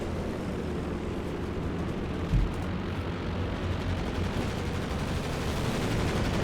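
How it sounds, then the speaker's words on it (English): An air strafe in the real-time strategy game Company of Heroes 2 sends a dense, continuous roar of rapid gunfire and blasts across a chaotic battlefield, with a brief heavier thump partway through. "Hard strafe there."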